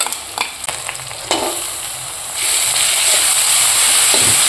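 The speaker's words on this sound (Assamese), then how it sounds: "এইখিনি এতিয়া ধুনীয়াকৈ ভাজি ল'ম গোন্ধটো মৰালৈকে।" Ginger, garlic, cumin and panch phoron frying in a pan, with a few stirring clatters early on that give way to a loud, steady sizzle and hiss.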